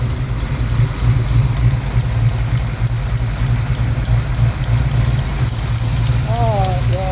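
A 1971 Cheyenne factory big block 454 idles close and loud with a steady rumbling throb and the ticking puff of a header leak, and a voice briefly speaks near the end.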